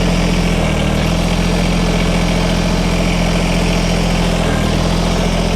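A Kubota BX Series compact tractor idles close by, a loud, steady engine drone with a low rhythmic throb that barely changes over several seconds.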